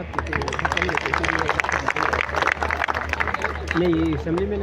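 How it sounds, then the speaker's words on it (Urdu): A convocation audience at Indus University claps for Khalid Amin, a steady wash of hand claps over crowd murmur and a low hum, with voices talking through it and rising clearly near the end. "ہم سبھی مل کر خالد امین صاحب کے لیے زوردار تالیاں بجائیں"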